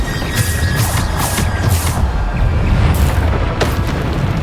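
Bombarda spell explosions in the Hogwarts Legacy video game, a series of loud, deep booming blasts in quick succession over a constant rumble.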